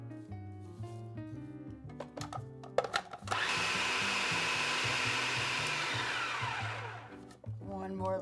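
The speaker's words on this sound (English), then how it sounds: "this run in our food processor until it's a smooth mixture" Food processor pureeing white beans into a smooth batter, a loud steady whir that starts after some clattering handling noises, runs for several seconds and then stops.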